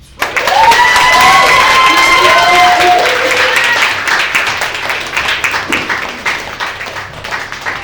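A live audience at a poetry lounge night claps and cheers to welcome a poet onstage, a dense burst of applause that swells quickly, holds loud for several seconds, then thins into scattered claps with a few whoops.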